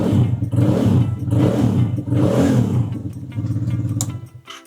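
Motorcycle engine fitted with a Malossi big bore kit, revved several times in close, loud bursts with a deep, throaty note, each rev rising and falling before settling back to idle.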